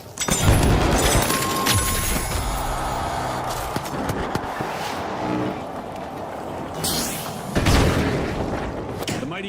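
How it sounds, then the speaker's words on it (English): A gas grenade going off in the shooter game The Finals, heard as muffled booms and a continuous hissing wash under busy game noise, with a second thump near the end. "Using gas grenade."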